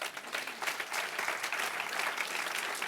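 Steady applause from a church congregation at a Christian conference, many hands clapping densely and evenly for about three seconds with no voices over it.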